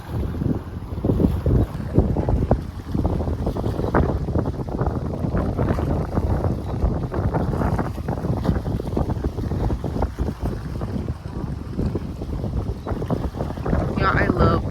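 Water at the shore with boats nearby, heard as continuous choppy lapping and wave wash under heavy wind buffeting on the microphone, steady and fairly loud throughout.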